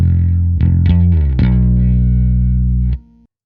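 A bass guitar played through distortion and chorus effects sounds heavy open-string notes, then a sustained note that slides down the neck on the third string. It rings loud and thick before cutting off abruptly.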